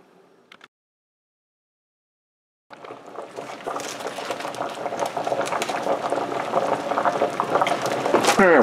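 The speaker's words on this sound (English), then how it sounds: "this has been simmering for about an hour, so it's getting pretty close" Giblet stock simmers in a pot, a dense close bubbling and gurgling that starts after a short quiet gap and grows steadily louder to the end, with no talk.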